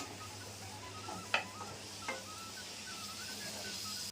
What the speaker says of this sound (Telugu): ఇక ఓట్స్ దోశ అయితే వేస్తున్నాను